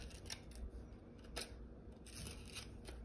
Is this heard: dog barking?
no